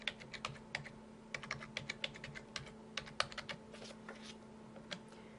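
Someone types a barcode number on a computer keyboard, with quiet, irregular clicks of keys pressed in short bursts and steady pauses between them, heard alone against a faint background hum.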